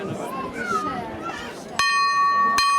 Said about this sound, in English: Warning bell rings, 30 seconds to tick down in this jugger